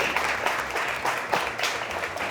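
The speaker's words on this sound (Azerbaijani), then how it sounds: "Alqışlayaq, xahiş edirik." Studio audience at a comedy talk show breaks into a brief burst of dense, steady clapping, close and lively.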